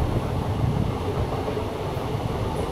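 A train running between Coimbatore and Palakkad, a steady close rumble with a dense low rolling roar and faint rail clatter throughout, no voices.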